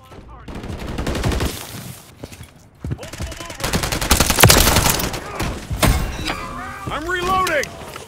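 Dense gunfire rattles through a Call of Duty: Modern Warfare 3 multiplayer firefight, bursts of automatic fire crackling loudly among game voice callouts and shifting effects.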